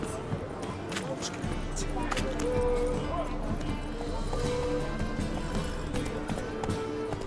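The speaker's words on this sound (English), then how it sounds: "Whoa there, Roach." Horse hooves clip-clop at a gallop in The Witcher 3 video game, a steady rhythmic pounding of moderate loudness under game ambience and soft background sounds.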